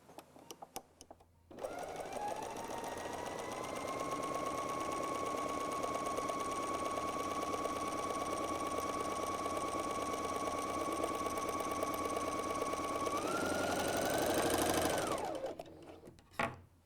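BERNINA L 660 overlock machine running continuously at a steady high-speed whir while the cutting width is changed, the tone holding level before shifting near the end as it winds down.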